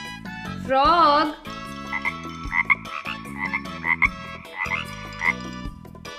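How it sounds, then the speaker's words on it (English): A frog croaks in a series of loud, rhythmic calls, first a long warbling croak, then repeated short croaks, with a backing musical tone. "Frog."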